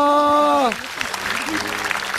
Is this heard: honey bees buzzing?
no